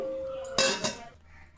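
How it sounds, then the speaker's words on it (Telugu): Metallic clanks and a scraping clatter of a pressure cooker lid being fitted and locked on a stove, close by, two sharp bursts then quieter rattling. "ఇంకా కుక్కర్ లాక్ చేసేయడం."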